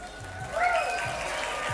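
Audience applause at a Las Vegas pool match during the season-opening Predator Pro Billiards Series event, a steady moderate clapping wash that swells briefly and then holds level throughout.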